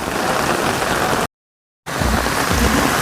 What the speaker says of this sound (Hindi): ज़ोरदार बारिश में सभी लोग विश्राम करने के लिए रुक गए हैं।